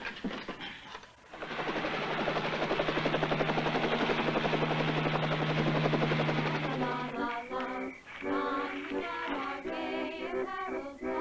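A helicopter in the TV comedy Petticoat Junction roars loudly and steadily with a rapid rotor chop, then fades under rhythmic music toward the end.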